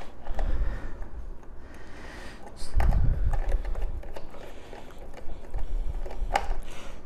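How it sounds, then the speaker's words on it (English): Screws being driven into a replacement hotbed on an Anycubic Chiron 3D printer, a run of close, clicking mechanical ratchet-like sounds with a louder burst in the middle, and a low voice faintly underneath. "So when you're screwing these in, what I always suggest is make sure it's nice and tight."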